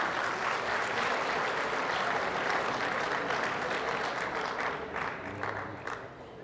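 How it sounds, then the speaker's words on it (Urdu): Dense, sustained audience applause at a mushaira poetry recital at GC University Lahore, many hands clapping loudly and steadily before gradually thinning toward the end. "یہ فرمائش تو بھرپور تالیوں میں ہوتی ہے نا۔"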